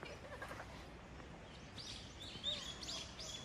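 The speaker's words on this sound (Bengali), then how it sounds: "এখানে পাখির ডাক শুনতে পাচ্ছি" Birds near a waterfall on Jeju Island, South Korea, give a few faint, high chirps over a soft steady rush of water, all quiet and distant.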